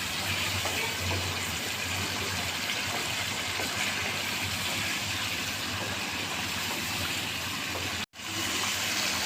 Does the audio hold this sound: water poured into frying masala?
yes